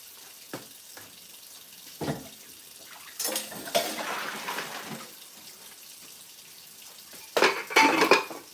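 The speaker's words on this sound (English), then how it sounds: "Right now I'm sorting dishes." Dishes being sorted by hand in a kitchen, with scattered clinks of plates and cutlery, a longer rattling stretch, and a loud clattering burst near the end over faint running-water noise.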